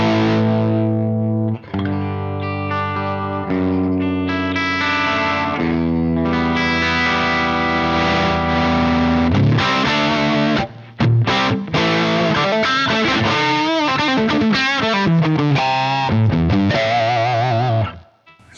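An overdriven electric guitar played through an Electro-Harmonix MIG-50 Bassman/Plexi-style 50-watt tube amp rings out with sustained distorted chords, then choppier riffs and single notes, loud and alone.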